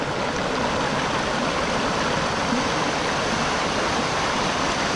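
Water of the Curug Cigentis waterfall in Karawang pours and rushes continuously, a loud, dense, even roar that fills the whole stretch with no voices.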